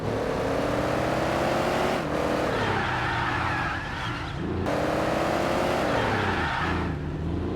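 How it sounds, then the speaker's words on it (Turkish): A car engine drones steadily while tires squeal and skid in long sliding stretches in Car Parking Multiplayer, loud and continuous with a brief dip midway. "artık lastiklerimizde kayma sesi var arkadaşlar"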